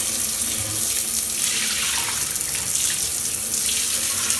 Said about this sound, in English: Can you turn the water off?